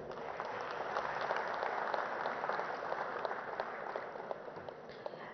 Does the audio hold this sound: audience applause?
yes